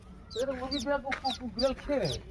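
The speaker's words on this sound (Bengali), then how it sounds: "ওইখানে আরো চুঁচু করছে কারা?" Young chicks cheep repeatedly in short, high, rising chirps, close by and fairly clear, over a few seconds.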